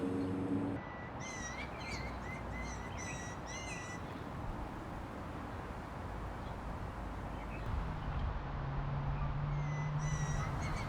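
Blue jays call outdoors while an adult feeds a fledgling, with a burst of harsh repeated calls at the start and another near the end, over a steady hiss of background noise.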